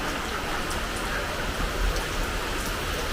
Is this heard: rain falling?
yes